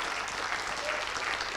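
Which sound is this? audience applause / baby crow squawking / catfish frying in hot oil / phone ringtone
audience applause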